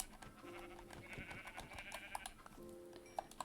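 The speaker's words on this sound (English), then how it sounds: "Let's get these sheep over here." Sheep in the Minecraft video game bleat several times over soft background clicking and patter, with no talking.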